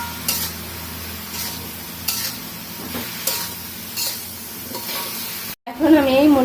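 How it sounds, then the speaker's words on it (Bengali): Radish bhaji sizzles in a frying pan while a utensil stirs it in regular scraping strokes about once a second. A short pause follows, then a faint tonal sound near the end. "এই যে ভাজিটাকে একটু নাড়াচাড়া দিই।"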